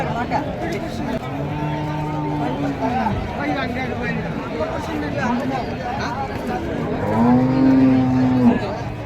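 Several cows moo loudly over the murmur of a crowd at a cattle market, with a long, strong bellow near the end.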